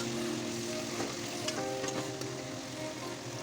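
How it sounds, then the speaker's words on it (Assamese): Goat mutton frying in a pan with a little added water, producing a dense, continuous sizzle with occasional clicks and scrapes of stirring, close and steady, with no speech. "এতিয়া মাংসখিনি অলপমান পানী দি পানীখিনি শুকোৱালৈকে আমি মাংসখিনি ভাজি থাকিম।"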